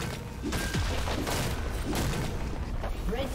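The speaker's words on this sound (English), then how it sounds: "Red team's turret has been destroyed." Turret falling in League of Legends, several dull booming impacts and crumbling thuds spread over a few seconds, moderately loud amid game effects.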